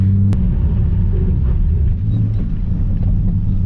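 A Ford Falcon engine rumbling loud and close as the car slides, a deep continuous drone that surges and dips with the throttle; no talking.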